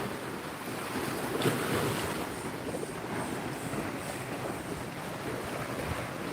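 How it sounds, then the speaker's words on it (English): Waves surging up and over a seawall beside a neighbor's bulkhead in Florida, a steady loud wash of water with broadband wind rush throughout, one stronger surge near the start, no voices. "The water's coming up way over our seawall."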